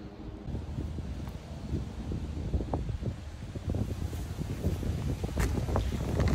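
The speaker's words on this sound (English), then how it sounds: "Why is it so windy suddenly here?" Steady wind gusting and buffeting the microphone outdoors on a walk, with scattered rustling and knocking sounds, no voices.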